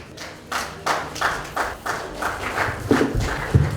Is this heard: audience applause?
yes